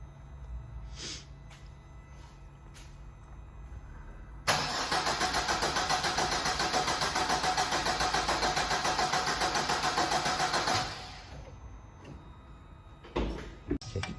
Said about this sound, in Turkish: O yüzden birkaç sefer kontağın açılması lazım. Daha sonra kendiliğinden çalışacaktır araç.